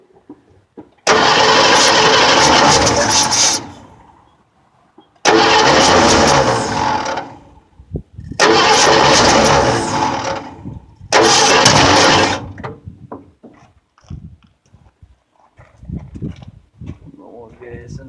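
A Ford 302 V8 engine fires up in four separate loud, close bursts, each running roughly two seconds before cutting out, with quieter gaps and faint handling noises between them.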